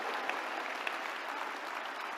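A church congregation applauding during a Sunday service, a steady dense wash of clapping from many hands throughout, fairly distant and even in level.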